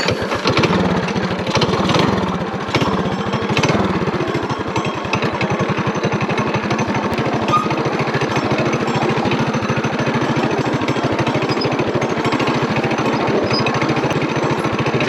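A mini bike engine runs loud and close on a snowy off-road trail, a steady buzzing drone with a rapid, pulsing putter that holds unbroken throughout.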